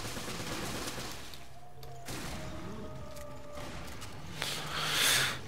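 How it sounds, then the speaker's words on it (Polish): A Magnum revolver shot in the game Resident Evil: Revelations sounds as a few sharp gun blasts over a constant background of game noise, with the loudest burst near the end. "przy jego końcówce życia ten strzał z Magnum to był ładny overkill"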